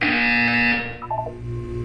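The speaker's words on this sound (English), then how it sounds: "You will hear a buzzer. When you hear the buzzer, look up at the ceiling." A loud electronic buzzer from the video game Portal 2 sounds as a steady, harmonic tone for under a second, then cuts off. Quieter game tones and ambience follow, with no talking.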